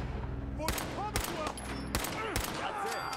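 Gunfire in the video game Fallout 4: four or five sharp, loud bursts of shots at roughly half-second intervals over a constant low background hum.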